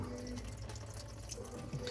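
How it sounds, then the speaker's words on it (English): Engine coolant drains from a Mk2 with an 07K engine swap into a drain pan, a steady trickling and splashing of liquid that runs continuously at close range. "you get this bolt out and then the coolant starts draining out"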